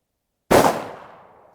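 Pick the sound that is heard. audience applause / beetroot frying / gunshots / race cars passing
gunshots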